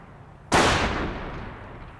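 A single sharp sniper rifle crack from Company of Heroes bursts out suddenly, loud and close, then rolls off in a decaying echo over about a second.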